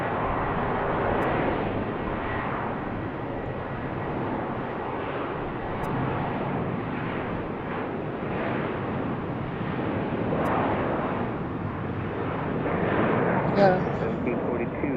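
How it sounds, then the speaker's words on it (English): Southwest Airlines jet departing from BWI airport, a broad distant engine roar that swells and fades steadily across the scene, fairly faint, with no talk over it. "Our next Southwest departure."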